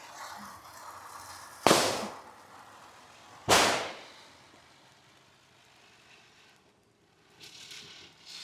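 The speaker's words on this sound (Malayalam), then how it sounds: "ഷീലാണ് ആക്ച്വലി പടക്കം പൊട്ടിക്കലിൽ ഏറ്റവും കൂടുതൽ എക്സൈറ്റഡ് ആയിട്ടുള്ളതും." Two sharp, loud firecracker bangs go off during a Vishu celebration, spaced about two seconds apart, each trailing into a brief crackling decay, with quiet outdoor ambience between and after.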